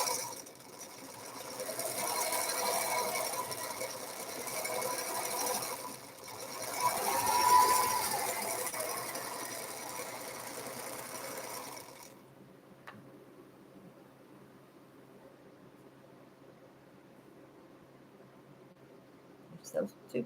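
A sewing machine runs in steady, continuous stitching bursts for about twelve seconds, with a voice talking over it throughout, then stops, leaving a quiet room with a few faint ticks and clicks.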